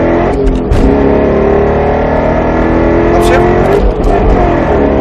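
A Roush Mustang RS3 on a track at Speed Vegas, its engine pulling hard and steadily under load after an upshift, loud and close, with brief dips at gear changes and someone talking over it.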